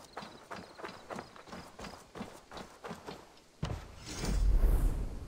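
A horse in the video game Assassin's Creed Valhalla trots with regular hoof clops for several seconds, followed by a heavier thud and louder rustling movement near the end.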